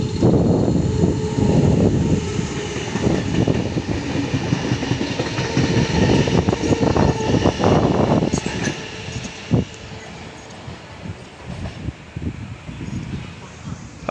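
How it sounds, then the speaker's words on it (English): Passenger train passing a station platform at Redfern, a loud rumbling roar with clattering wheels that gradually eases over about fourteen seconds. "Passing platform 2, we have the 218 service to Lithgow via Parramatta."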